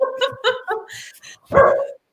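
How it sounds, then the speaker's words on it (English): A dog barks close and loud in a quick run of sharp yips, then lets out one longer, deeper bark after a short pause. "Just as I say now, Pucky starts barking."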